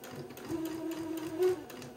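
A sewing machine stitching fabric along a shoulder seam of a baby bubble romper, a quiet, steady whirring hum with faint rapid needle ticks, close and without talk.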